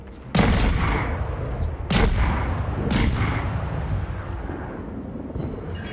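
Warship main battery salvos in World of Warships, three heavy booming broadsides at roughly one-second intervals, each a loud broadband blast with a long rumbling tail over continuous low engine and sea rumble.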